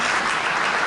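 Pharmacists gathered at a national pharmaceutical conference in Kinshasa applaud in a brief, dense, even wash of clapping from a large crowd.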